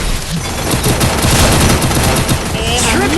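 Loud rapid bursts of automatic gunfire crackle through a shooter video game match, dense overlapping shots filling the whole moment, with a player's voice faintly mixed in.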